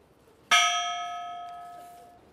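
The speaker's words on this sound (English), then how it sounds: "we want to ring the bell for all those who are not on this list that have died in the workplace" A single memorial bell is struck once at a Workers Memorial Day gathering in Pittsburgh, a clear bright strike that rings on with a long, slowly fading tone in a quiet setting, without any talking.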